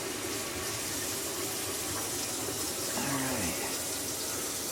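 Water gushes steadily from a newly installed kitchen faucet into the sink, a continuous broadband rush heard nearby with no talking.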